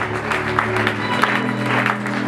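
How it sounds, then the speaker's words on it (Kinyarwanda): A congregation claps during a church worship service, rhythmic clapping under sustained music tones and voices, moderately loud and continuous with a few sharper claps standing out. "turagukomera amashyi y'ikirenge"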